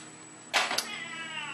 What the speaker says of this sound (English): you are listening to my cat who is in here bitching